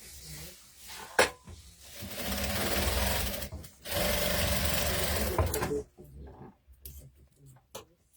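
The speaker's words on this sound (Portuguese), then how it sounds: "E passo uma costura reta aqui, que dá pra ser reto" A sewing machine runs in sustained bursts while stitching a straight seam on clothing, close and loud, with short pauses, handling clatter and a sharp click between runs.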